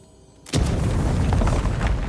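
Explosion in the video game Avowed, a sudden loud boom after a quiet moment, followed by a sustained roaring rumble that fills the rest of the clip.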